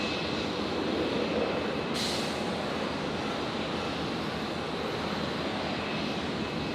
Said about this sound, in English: There's that Dash 8 departure we're talking about